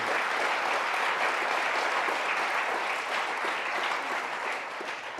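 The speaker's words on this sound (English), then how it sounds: "I think it's appropriate to extend a round of applause first to the Batten School and President Sullivan for making this happen" An audience at a congressional forum gives sustained, even applause, a steady wash of many clapping hands heard from within the room, tapering slightly toward the end.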